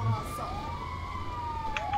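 A rising and falling electronic emergency siren from an ambulance in GTA 5 with a UK Metropolitan Police mod, steady and moderately loud throughout, with a faint game hum underneath.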